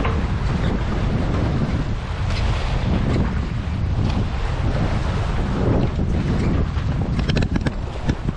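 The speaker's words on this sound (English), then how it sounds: "with this wind building now" Wind building while sailing solo across Lake Ontario during a club race, a steady loud rush of wind buffeting the microphone, mixed with water and boat noise and no talk.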